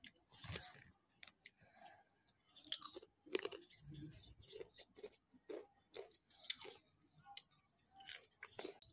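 Cookies are chewed close to the mic, with repeated crunchy bites and moist mastication in irregular bursts and quiet pauses between.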